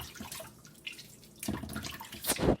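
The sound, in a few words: washing fish steak with water and lime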